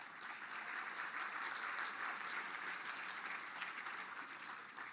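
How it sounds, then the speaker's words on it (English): Audience applause for corporate board members during the Mille Lacs Band of Ojibwe State of the Band address, an even, sustained wash of clapping from a large crowd with no break. "Give them a round of applause, please."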